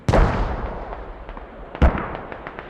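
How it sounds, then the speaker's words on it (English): Mortar rounds strike near a base in the game Squad: two loud, close blasts about a second and a half apart, each cracking sharply then rumbling off into a fading echo with faint scattered pops. "they are getting mortared"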